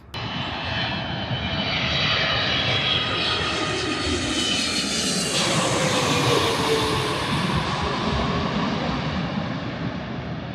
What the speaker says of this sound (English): For a 737 MAX that has modern engines, that was noisy.